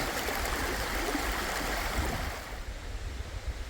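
Steady rushing water of a rain-swollen stream at a trail crossing on the Appalachian Trail in Maine, a continuous broadband wash that eases slightly toward the end, close and alone with no voices.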